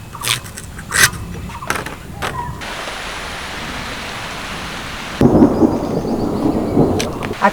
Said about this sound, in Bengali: শুধু বৃষ্টি নয় মাঝে মাঝে ঝড়ও হচ্ছে